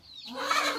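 Rhode Island chickens on a rural backyard farm give a short burst of soft clucking, close and fairly faint, with no voices.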